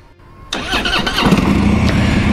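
A 2015 Harley-Davidson Road King motorcycle at a dealership cranks and fires at about half a second, then settles into a loud, close, lumpy idle with no talking.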